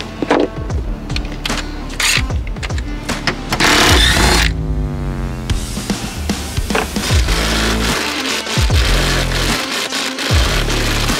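A small impact gun drives a socket onto rear seat bolts of a Nissan Frontier pickup, giving loud, repeated buzzing rattles in short bursts, then a longer sustained whir, with clanks between runs.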